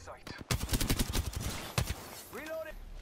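Gunfire in the battle-royale game Apex Legends, a burst of rapid shots near the start followed by scattered single cracks, heard under steady talking from a player.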